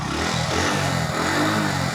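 A 100 cc commuter motorcycle engine runs close and loud, its throttle held open in a steady, rough revving drone.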